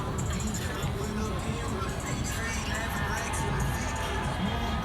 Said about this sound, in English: You can hear cheers coming from Locust Street.